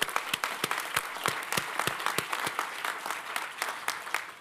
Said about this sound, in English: Join me in applause for that.